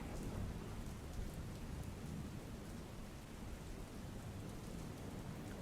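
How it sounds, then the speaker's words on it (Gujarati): Heavy downpour with thunder and strong wind over rural villages around Virpur, Rajkot: a dense, steady roar of rain that stays loud throughout, with low rumbling underneath and no voices. "ધોધમાર વરસાદ નજરે પડી રહ્યો છે, ભારે પવન ફૂંકાઈ રહ્યો છે"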